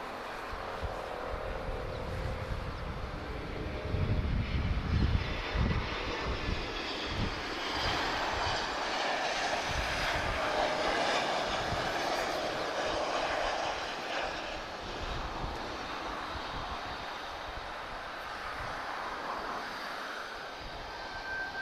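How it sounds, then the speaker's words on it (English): TAP Express Embraer E190 jet arriving at Lisbon Airport from London Gatwick, a continuous loud broadband engine roar that swells slightly early on and holds steady throughout. "TAP Express is inbound, arriving from London Gatwick. This is a lovely Embraer E190, long range."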